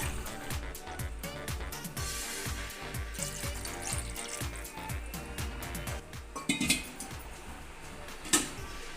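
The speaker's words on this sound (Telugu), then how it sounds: "ఇందులోకి 2 గ్లాస్ ఆఫ్ వాటర్ వేసుకోవాలి" Metal pots and utensils clatter and clink in a busy kitchen, with steady washing noise throughout and a couple of louder knocks near the end.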